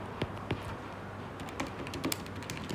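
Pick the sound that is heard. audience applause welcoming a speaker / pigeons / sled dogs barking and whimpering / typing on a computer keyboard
typing on a computer keyboard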